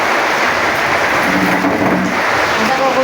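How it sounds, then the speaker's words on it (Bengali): Heavy rain pours steadily into a room through a gap in the roof, a dense continuous wash of water noise with a low rumble beneath, loud and close throughout. "ওইখান থেকে দেখো বৃষ্টি পড়ছে, দেখো এত জল পড়ছে ঘরের মধ্যে, এত জল।"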